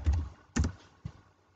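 Typing on a computer keyboard: three close, distinct key thunks spaced about half a second apart, alone with no talk.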